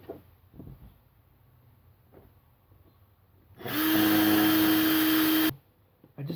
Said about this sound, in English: So let me go ahead and drill that